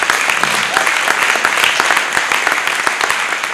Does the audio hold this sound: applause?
yes